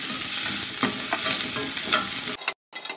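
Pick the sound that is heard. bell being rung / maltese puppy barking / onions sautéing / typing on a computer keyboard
onions sautéing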